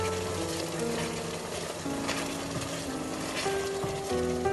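A Christmas cake fruit mixture with brandy and flour bubbles and sizzles in a pan as its liquids reduce, a steady close simmering crackle with faint tonal hum behind it.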